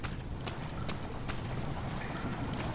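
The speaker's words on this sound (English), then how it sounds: "I can hear water draining." Water drains slowly from a chamber in Amnesia: The Dark Descent, a steady low rushing wash with faint clicks, continuous and fairly quiet.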